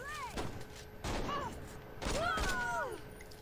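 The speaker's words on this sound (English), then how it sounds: "Pretty sure some of my dudes here are using shotguns" Shotgun blasts from an open-world crime video game boom in three spaced volleys, sharp and fairly close, while voices talk over and between the shots.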